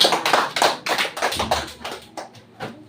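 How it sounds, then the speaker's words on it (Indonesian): A classroom of pupils claps for a classmate in a short, uneven burst of close, rhythmic hand claps. The claps lose steam and scatter toward the end. "Tepuk tangan dulu untuk temannya."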